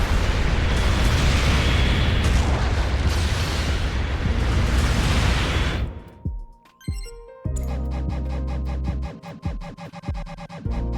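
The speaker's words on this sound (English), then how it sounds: "An ally has destroyed an enemy mobile suit." A mobile suit explodes in the Gundam Battle Operation 2 video game with a dense, rumbling blast lasting several seconds before cutting off into game music and effects.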